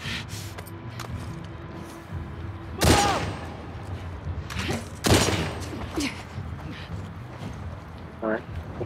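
Two sharp, loud bursts of video game gunfire, a few seconds apart, over a quieter background with someone talking.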